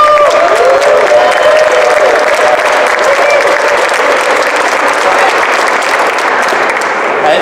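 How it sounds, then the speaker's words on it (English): A crowd at a Fight for $15 event for nursing home caregivers gives loud, sustained applause with dense continuous clapping close by and faint cheering mixed in. "let's have a large round of applause for the folks behind me"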